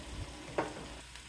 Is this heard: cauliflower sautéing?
yes